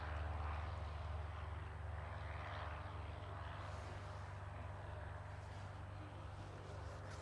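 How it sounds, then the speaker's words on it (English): Piper Cub light aircraft on its takeoff roll at Gloucestershire Airport, its propeller engine a steady, fairly loud drone with a low hum that holds throughout, no voices. "There's a cub there taking off now in the takeoff roll."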